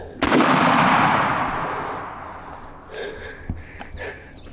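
Single loud shotgun shot during a Mississippi turkey hunt outdoors, a sharp blast with a long rolling echo fading over a couple of seconds, followed by faint rustling and footsteps.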